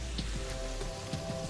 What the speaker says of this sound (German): Wahrscheinlich wegen Regen oder so.